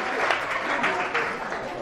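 Steady applause from a crowd at a school quiz final, a dense wash of clapping that keeps up evenly for the whole stretch with no pause.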